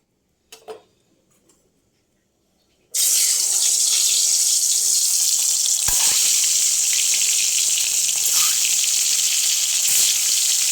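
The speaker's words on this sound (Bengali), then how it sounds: "ডিমগুলো ভাজা হয়ে গেছে, এবার এগুলো আমি তুলে নেব" Eggs fry in oil for an egg curry. After about three seconds of near silence with a couple of faint knocks, a loud, dense, hissing sizzle bursts in and holds steady to the end.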